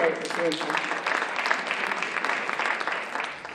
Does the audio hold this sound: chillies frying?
no